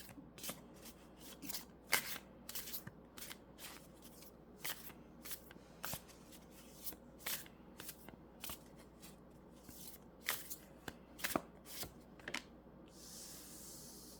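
Oracle cards being shuffled by hand, a quiet run of crisp riffling snaps and soft slaps repeated irregularly over a low steady room hum, with no voices.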